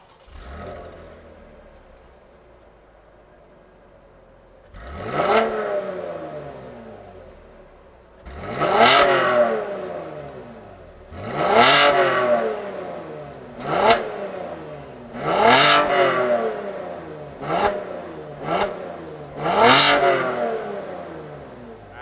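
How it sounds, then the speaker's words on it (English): The V6 engine of a 2021 Chevrolet Camaro RS Redline Edition cranks and catches, then revs hard several times in a row, each roar rising and falling back to a rough idle. "Let's fire up this V6 in our Redline and hear what it sounds like."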